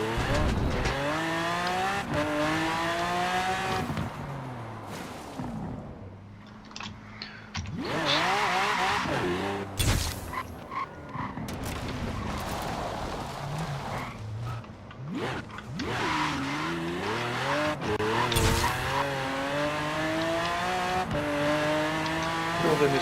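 A 1969 Pontiac GTO Judge in Forza Horizon 4 revs hard and brakes repeatedly, tires squealing and skidding in a front-wheel lock-up over the loud rising and falling engine note.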